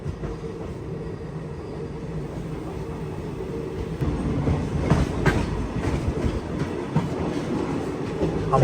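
A superfast passenger train runs on rails from Dhanbad toward Bhubaneswar through a coal-mining area, and its steady rumble and clickety-clack grow louder partway through, heard from on board with no talking.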